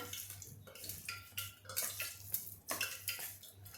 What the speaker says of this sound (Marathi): आता हे आपण सगळं कालवून घेऊया